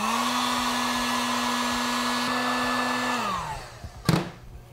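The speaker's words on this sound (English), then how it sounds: "we can go ahead and heat shrink our heat shrink tubing" A heat gun shrinks tubing over a DenCo LiFePO4 battery pack, giving a steady loud whirring blow that winds down at the end, followed by a short knock as it is set down.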